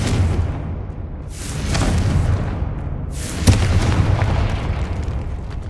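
Confringo explosion spell in Hogwarts Legacy, two heavy booming blasts about two seconds apart, each with a rumbling roar that tails off.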